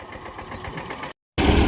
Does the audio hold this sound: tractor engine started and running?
yes